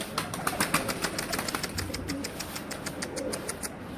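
Pigeons on a rooftop give repeated soft cooing calls close by, with a few sharper flaps or chirps mixed in throughout.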